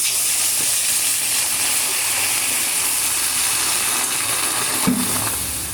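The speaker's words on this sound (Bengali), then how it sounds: "এই আমি জল দিয়ে দিলাম ডালে।" Water poured onto dal frying in a hot pan sizzles and steams with a loud, continuous hiss, broken by one brief clunk near the end, with no talk.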